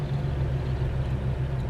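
A 1969 Dodge Dart's 342 engine drones at a steady, close pitch with a low rumble, the revs holding even throughout as the car drives on.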